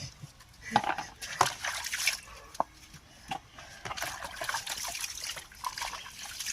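Water trickles and splashes over a dog during a bath, a steady uneven dribble with small splatters throughout, fairly quiet and close, with no talking.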